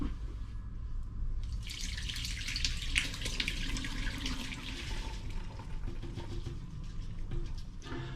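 Homebrewed imperial stout wort pours steadily from a pan, splashing and trickling continuously for several seconds, close and fairly loud.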